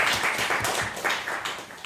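A church congregation at Sunday worship claps briefly, a close, dense burst of many hands that fades slightly toward the end.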